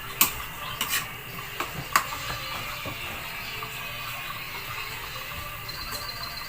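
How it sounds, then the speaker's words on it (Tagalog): A utensil stirs bitter gourd and meat in a pan, with several metallic scrapes and clinks near the start over a soft continuous sizzle that carries on alone. "Mga katry, haluin po natin."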